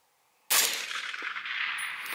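A single rifle shot fired at a target 500 yards away, a sharp loud crack that bursts in suddenly and leaves a long bright ringing echo trailing across the rest of the moment.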